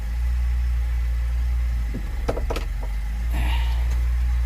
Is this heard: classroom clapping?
no